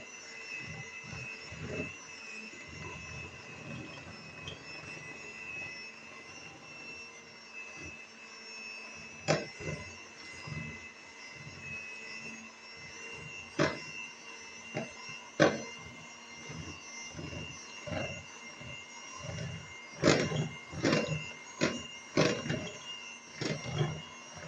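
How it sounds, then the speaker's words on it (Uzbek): An electric hand mixer beats eggs with sugar for a honey cake, giving a steady whirring drone throughout with intermittent louder clicks and knocks as the beaters strike the bowl. "ustidan boyagi o'lchangan 260 gramm shakarimizni solib, mana mikser qilishni boshladim"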